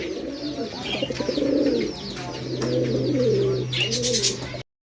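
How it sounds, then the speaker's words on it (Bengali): Indian Bombay pigeons, a male and female, cooing in low, rolling, repeated phrases close by, with faint chirps and a steady low hum underneath. "ইন্ডিয়ান বোম্বাই কবুতর আছে পিছনেটা মাদি সামনেটা নর খুব সুন্দর দেখার মতো একটা কবুতর"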